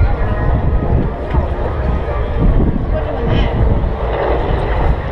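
A vintage airplane's 3,350 cubic inch radial engine runs with a steady, rough low drone, fairly close and continuous, partly under faint crowd noise.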